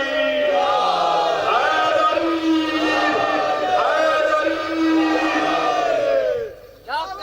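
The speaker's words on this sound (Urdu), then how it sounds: "وہ پوری طاقت سر کر کے دونوں بازو بلند کر کے نعرہ حیدری" A large crowd at a religious celebration in Daudpur, Ambedkar Nagar, shouts the Nara-e-Haidari slogan together in loud, sustained, rising chant-like calls that swell and fade over several seconds.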